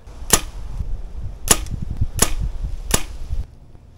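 Arrows loosed from a bow at an outdoor target, four sharp snapping releases spaced about a second apart, crisp and close with quiet rustling between them and no talk.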